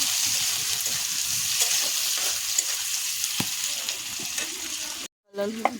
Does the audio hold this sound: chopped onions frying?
yes